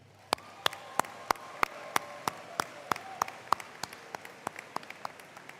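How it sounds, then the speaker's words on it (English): Crisp, evenly spaced claps ring out at a commencement ceremony, a steady rhythmic beat of about three per second, close and distinct over a quiet room. "So please give yourself a well-earned round of applause."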